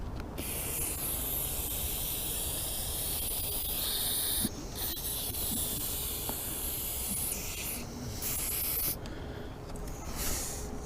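Silicone lubricant hisses from a spray can in several short and longer bursts into the track of an electric car window, close and fairly quiet, with faint handling noise between bursts.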